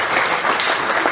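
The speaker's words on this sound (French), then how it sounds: "Je pense que ça mérite des applaudissements" Short, loud round of audience applause at a business program presentation, a thick crowd of hands clapping steadily with no voices over it.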